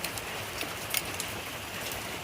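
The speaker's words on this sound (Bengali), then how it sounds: "বৃষ্টিটা আস্তে আস্তে আবার কমছে, বাড়ছে, এরকম হচ্ছে।" Steady rain falls outside with a soft, even patter that swells and eases slightly over a couple of seconds, with no voices.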